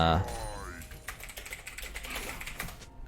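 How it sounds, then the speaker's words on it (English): Rapid clicking of a computer keyboard during a League of Legends match, a steady run of quick keystrokes close up, with game sounds underneath. "gonna be typing to my jungler to dive Vayne soon"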